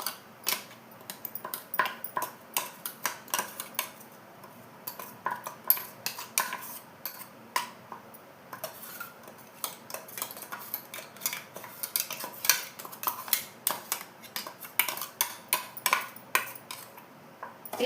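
Semolina and grated coconut sautéed in a pan, with a spoon or spatula tapping and scraping the metal in quick, irregular clinks throughout, over a faint background hiss; no voices.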